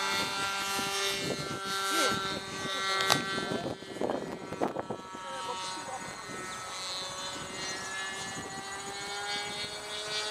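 A model floatplane's engine buzzes in flight outdoors, a steady high-pitched whine with shifting harmonics that holds throughout, while people talk and call out nearby over it.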